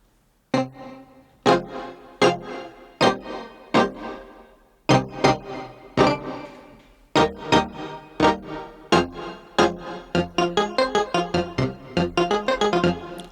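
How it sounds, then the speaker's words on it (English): Layered synthesizer keys recreate the sound of a song, playing a close, clear run of struck notes with sharp attacks and decaying tails in a steady rhythm that quickens into rapid repeated hits near the end, with no voices. "So the whole keys sound like this when I play them."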